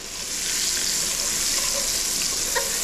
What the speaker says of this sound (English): into this pan now go my mushrooms. And I'm going to let those now saute